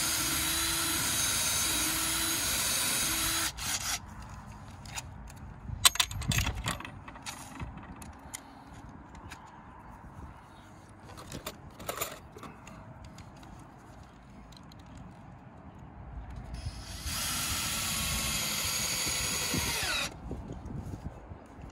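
Cordless battery drill boring through knotty pine for a plant box, two loud sustained whirring bursts at the start and end with quieter clunks and handling noises between.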